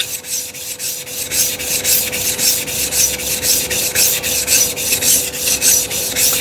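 A whetstone is rubbed back and forth against a Suehiro 100 grit flattening stone, giving a steady, close, loud gritty scraping in regular strokes throughout, with no talking.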